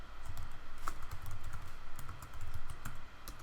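Steady typing on a computer keyboard while working in a terminal, quick clustered key clicks at close range ending with a firmer press of the Enter key, no voices.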